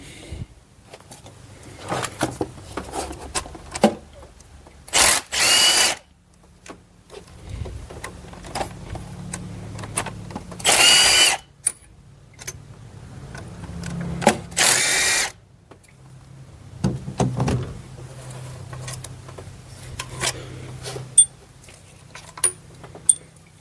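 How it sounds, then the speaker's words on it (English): Ratcheting on the 8mm bolts of the thermostat housing on a 2008 Ford Explorer, with repeated clicky ratchet bursts and a few short loud mechanical clatters spread over the clip, close up with no talk. "you guys can remove the 3 bolts that holds the thermostat housing in place"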